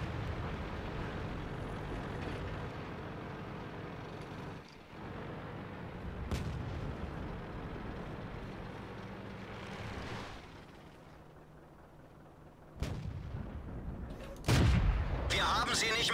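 Tank cannon shots in the video game World of Tanks, in a historical battle: several sharp, booming blasts spaced seconds apart over a low engine rumble, with talk in places.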